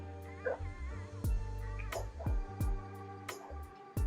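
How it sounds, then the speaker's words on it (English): A dog barks and yips in a quick, irregular series of sharp, fairly close barks, with a few whimpering yelps mixed in, and no voices over it. "I know y'all hear that dog barking"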